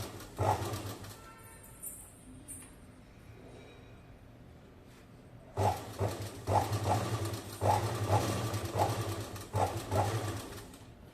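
Sewing machine stitching an Aari embroidery blouse: a steady motor hum broken by repeated loud bursts of rapid stitching, with a quieter pause in the middle before the machine resumes.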